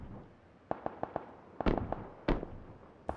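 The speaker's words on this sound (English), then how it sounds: "The dude that SKS is shooting from somewhere" SKS rifle shots from somewhere distant in a battle royale game: a series of sharp, separate cracks in an irregular rhythm, a few louder booming reports among them, with no talk over them.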